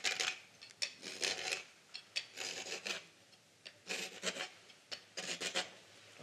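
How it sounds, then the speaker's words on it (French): Copper tubing rasped against a metal file while being turned, a dry scraping in repeated short strokes with brief pauses between, close and clear with no talking. "Vous allez prendre votre cuivre et vous allez le râper sur la lime en tournant."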